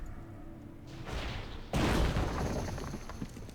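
Bomb blowing up a wall in World of Warcraft, a sudden loud blast that cuts in after a short rising hiss and then fades into a long rumbling roar.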